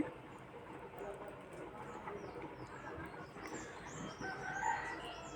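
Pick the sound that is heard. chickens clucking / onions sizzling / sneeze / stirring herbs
chickens clucking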